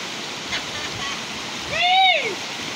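The El Barro waterfall in Yuscarán, Honduras, roars as a steady rushing wash of water in the distance, with a brief high sliding call near the end.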